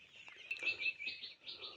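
Birds at a poultry farm give a handful of faint, high chirps in quick succession, thin and somewhat distant against a quiet background.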